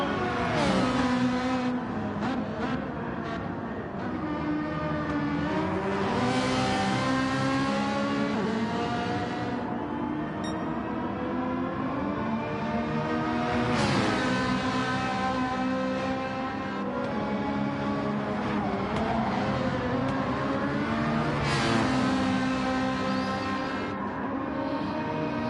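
GR4 class race cars lapping a circuit during a multi-class race, engines roaring and rising in pitch through repeated gear changes as cars pass, loud and continuous with no speech.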